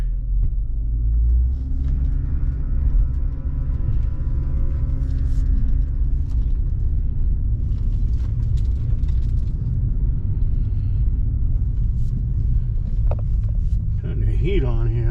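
From inside a 1997 Mercedes C-Class, a low, steady engine and road rumble continues as the car moves off. Someone talks over it.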